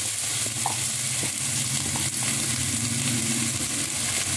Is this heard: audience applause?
no